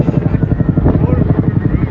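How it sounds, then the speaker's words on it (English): A helicopter's steady rhythmic rotor chop over central London, loud and close overhead, pulsing evenly throughout with a low engine drone underneath. "You've got the helicopter passing above."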